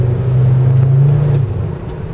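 Audi 5000 S five-cylinder station wagon engine humming steadily up close as it drives, its low drone dropping in pitch partway through as the car slows.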